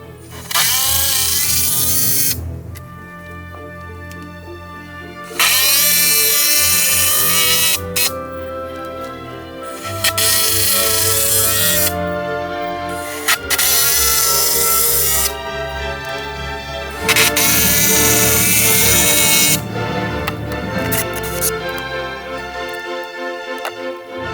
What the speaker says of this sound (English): Now I'm gonna drive it home with these big lag bolts